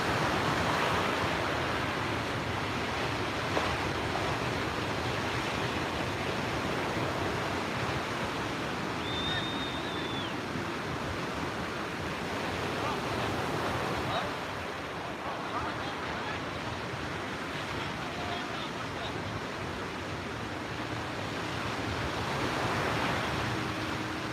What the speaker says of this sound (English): Quite a tricky surf where they are.